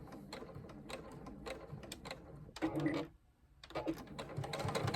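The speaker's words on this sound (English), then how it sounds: "we are going to sew down that one side. And I am back tacking at that bottom." A JUKI sewing machine stitches a seam with back tacking at the bottom end, heard as rapid, close mechanical needle chatter in bursts, with a louder run near the middle, a short pause, then steady stitching again.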